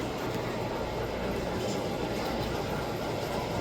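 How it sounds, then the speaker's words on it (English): A model trolley runs on a large toy train layout town, giving a steady, continuous rolling rumble and rattle that holds at one level without a break. "You got a little trolley here."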